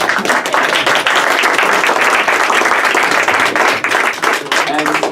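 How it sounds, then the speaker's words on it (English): An audience at a ward political forum applauds the candidates with loud, sustained clapping from many hands, steady throughout and with some voices mixed in. "You may applause."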